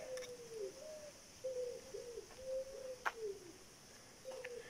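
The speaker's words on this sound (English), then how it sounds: "You can hear the doves up there." Doves coo from up in the trees on an old estate in St. Kitts, a soft repeated series of low, hollow notes fairly close, with a faint chirp or two from other birds in the background.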